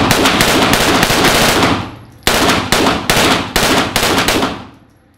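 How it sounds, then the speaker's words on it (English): Loud, close gunfire at an outdoor shooting range: about two seconds of continuous rapid automatic fire, then a short pause and four quick separate bursts, with a fading echo at the end. "You pop some rounds off like that."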